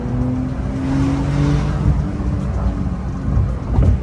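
A Porsche 911 driven fast in Sport Plus mode, its engine droning loudly from inside the cabin with a rising and falling note and rough road rumble underneath.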